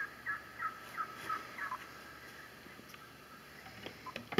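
A wild turkey gobbling in a museum setting, a faint series of short rapid calls early on, then quieter scattered sounds and a few louder knocks at the end.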